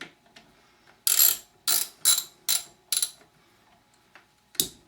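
A ratchet tightening the stem bolts on a 2015 Diamondback Airen 1 bicycle, giving five quick, close, loud clicking bursts in a steady rhythm and then one more after a pause.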